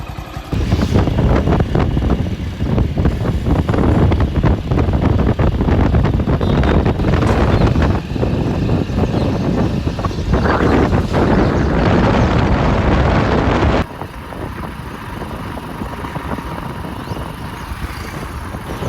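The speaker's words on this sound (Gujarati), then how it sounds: "પહેરતા પહેરતા હવા એટલી જોર આવી ને તો ચશ્મા પડી ગયા." Strong gusts buffeting the microphone outdoors, a loud, steady low roar that drops abruptly near the end to a softer, continuous rumble.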